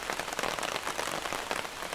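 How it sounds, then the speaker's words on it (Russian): Heavy rain pours down onto a tarp shelter overhead at a log cabin building site, a dense, steady patter close above with no voices. "все заволокло и сыпанул дождь"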